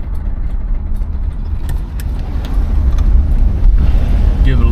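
A 1977 Cadillac DeVille gets gentle throttle while cruising, a low steady engine rumble that swells slightly under road noise, heard from inside the car.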